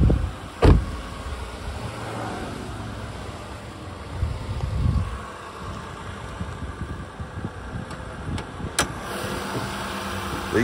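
A Nissan Murano Platinum all-wheel-drive V6 idling, a steady low engine hum heard from close by with a few sharp clicks and knocks over the top and no talking.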